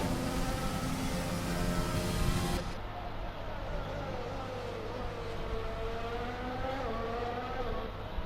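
A Mercedes Formula 1 car in the F1 20 video game screams around the Azerbaijan Grand Prix street circuit, its engine a loud, sustained high whine that shifts pitch as it changes gear.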